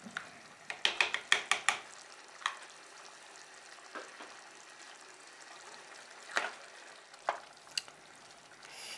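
Tomato paste being stirred into chili con carne in a pot, opening with a quick run of spoon clacks, then faint, sparse scrapes over a low simmering hiss.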